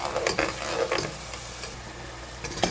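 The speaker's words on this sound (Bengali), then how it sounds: "এখানে মশলাটা ভালো করে কষায় নেব" Ground spices with ginger and garlic paste being stir-fried for a meat curry, sizzling with repeated scraping strokes of a spatula against the pan, louder at the start and again near the end.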